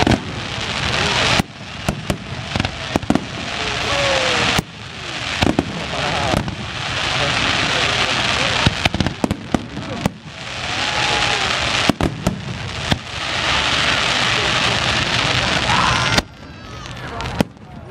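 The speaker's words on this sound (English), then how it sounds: "the fireworks are about to go off" Fireworks explode over a beach in a long string of loud, booming, crackling bursts, with people talking faintly underneath.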